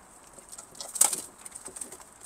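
Pigeons in a coop give soft, faint coos and flutters with a brief burst of wing flapping in the middle, all fairly quiet and close.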